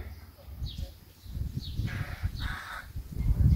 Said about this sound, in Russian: И папа, и мама чирикают, кар-кар.